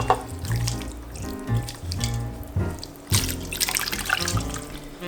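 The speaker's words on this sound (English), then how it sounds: "Now, to that, half cup of our orange juice. And then right on top as well." Orange juice poured over a ham in a slow cooker, a continuous liquid splash and trickle with a few brief clinks, close and fairly loud, with no one talking.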